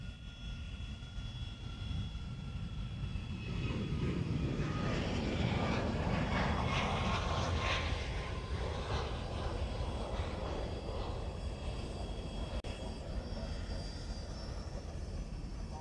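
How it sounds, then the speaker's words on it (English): A Dassault Falcon 50 EX tri-jet at Honolulu airport, its engines roaring steadily from a distance with a whining tonal edge for the whole stretch, rising slightly in the middle. "It's a Falcon 50, I believe. Falcon 50 EX."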